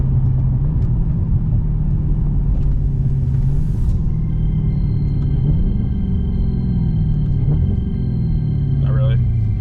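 A Dodge Charger Redeye's engine rumbles low and steady while driving, heard from inside the car with a continuous drone and road noise, someone talking over it.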